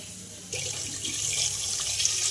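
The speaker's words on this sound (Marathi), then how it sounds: "मटन आता स्वच्छ धुवून घेऊया" A tap turns on and water runs steadily into a sink, splashing over mutton being rinsed, a constant close hiss.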